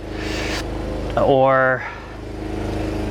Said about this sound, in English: sorry for the lawnmower, my neighbor